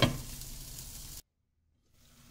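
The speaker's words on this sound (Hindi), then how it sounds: "ये देखिए अच्छे से भुनना शुरू हो गया है।" Tomato and ginger masala for dhaba-style malai methi paneer fries in a pan with a steady sizzle that cuts off abruptly into silence before a faint hiss returns.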